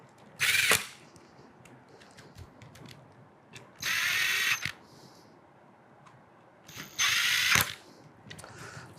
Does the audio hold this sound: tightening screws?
yes